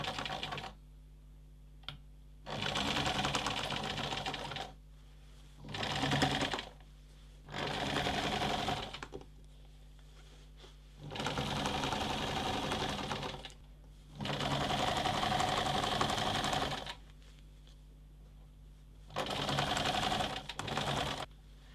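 A sewing machine stitches the facing seam of an apron dress in several bursts of steady, rapid whirring, each several seconds long and split by short quiet pauses, heard close and fairly soft.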